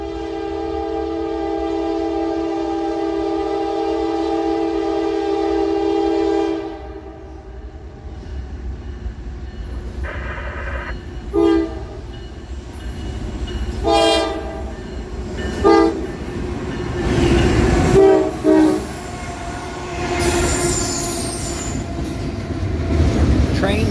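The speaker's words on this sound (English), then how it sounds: "Train number 11 would be NS-24X, a high-priority intermodal train bound for Croxton, New Jersey that is known for hauling UPS traffic." A Norfolk Southern high-priority intermodal freight train bound for Croxton, New Jersey sounds a loud, sustained multi-tone horn, then rumbles past with clanking, squealing wheels and intermittent bangs as cars roll by close to the tracks in Spartanburg, South Carolina.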